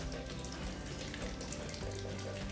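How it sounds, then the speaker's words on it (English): Soy sauce pours steadily into a meatloaf mix, a continuous faint liquid trickle and splash with no talk. "we're gonna put some soy sauce in there"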